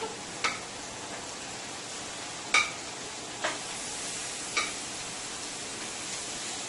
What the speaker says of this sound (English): My shrimp is cooking up nicely here, and my salmon is cooking nicely here